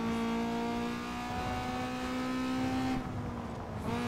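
A car engine holds a steady, high, buzzing drone during a drift race in Need for Speed Underground 2. The pitch rises slightly, dips near the end and recovers, loud and close throughout.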